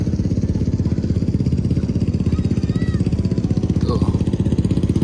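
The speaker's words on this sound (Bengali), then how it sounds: "আপনারা দেখতে পাচ্ছেন মানুষজন স্পোর্টস বাইক চালাচ্ছে, বাগি চালাচ্ছে, কেউ কেউ এসইউভি স্পোর্টস যে কারগুলি আছে" Motorbike-type engine with a fast, steady chugging idle in a desert camp near a highway, where sports bikes, buggies and SUV sports cars are being driven; faint voices run under the engine.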